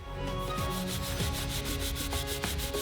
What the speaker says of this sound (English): Sand it again